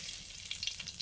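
Mustard oil sizzles and crackles in a pan, a short burst of soft steady frying with small pops, heard alone.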